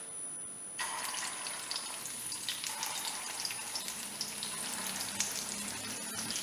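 Meatballs stuffed with courgette go into hot oil in a frying pan, and a soft, continuous sizzle starts after a brief near-silence and holds steady.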